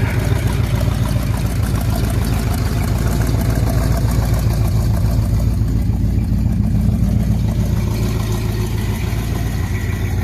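An inline-six Chevy 250 engine, recently locked up and water-filled, idles steadily with a smooth, even rumble and fine rhythmic pulsing, close and continuous without revving.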